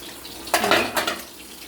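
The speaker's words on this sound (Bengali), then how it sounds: "ঢাকনাটা খুলে দেখি বন্ধুরা" A metal lid lifted off a cooking pot of simmering fish-head curry with pumpkin and potatoes, giving two brief clattering clinks close by, with no one talking.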